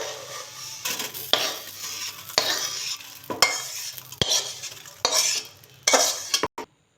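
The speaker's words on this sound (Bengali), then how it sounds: "ঘিটা গরম হয়ে গেছে, সুজিগুলো দিয়ে দেবো, ভালো করে ভেজে নেব" Semolina stirred and fried in hot ghee in a pan, with repeated scraping strokes of a utensil against metal and a light sizzle, close and clear with no talk.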